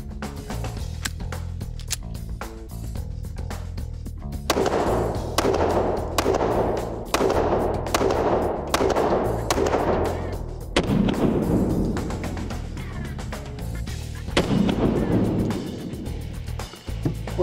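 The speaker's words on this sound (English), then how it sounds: "Got the Springfield Armory XDS. Run this target out to about 7 yards and shoot a little bit." A Springfield Armory XDS pistol loaded with Black Hills hollow point ammunition fires a steady string of sharp shots at an indoor range, each a loud close crack over a constant low ventilation hum.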